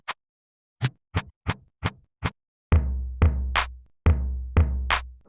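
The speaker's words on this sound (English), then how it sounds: "So I'm going to do the kick and the snare pattern." A kick and snare drum pattern programmed in Mario Paint, starting with a run of short, sharp clicky hits and then shifting to heavier thumping beats with ringing tails, a steady loud rhythm with no voices.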